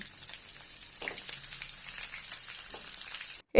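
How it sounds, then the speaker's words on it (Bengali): Boiled potatoes fry in hot mustard oil in a kadai, giving a steady, close hiss and crackle of sizzling oil with faint pops, cutting off abruptly near the end. "সেদ্ধ করে রাখা আলুগুলো এর মধ্যে আমি দিয়ে দিলাম ভাজার জন্যে"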